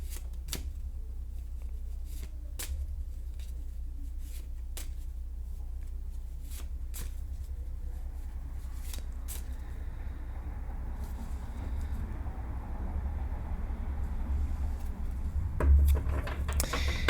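Tarot cards are riffled and shuffled repeatedly, with sharp clicking snaps scattered over a steady low hum, close and fairly quiet.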